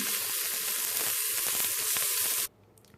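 Chuck roast sizzles loudly and steadily as it browns in a pressure cooker on the saute setting, a dense continuous frying hiss that cuts off abruptly near the end, leaving a faint low hum.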